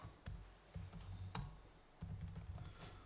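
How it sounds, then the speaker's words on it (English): Typing on a computer keyboard during a live demo at a MediaWiki users and developers conference, with bursts of quick, close clicking keystrokes in short runs separated by brief pauses, no talk. "I can start typing."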